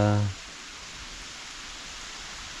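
Steady, dense hiss of heavy rain continues throughout, with a brief voice at the very start.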